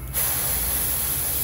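Airbrush spraying paint onto a greenback cutthroat trout painting, a steady close hiss that starts abruptly and holds evenly to the end, with no voices.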